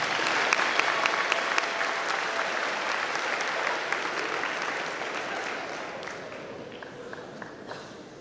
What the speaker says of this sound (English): Let's give all of these students a round of applause.